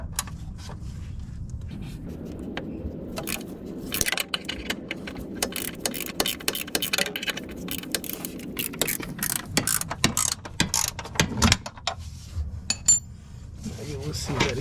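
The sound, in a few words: ratchet loosening camber arm bolts on Lexus IS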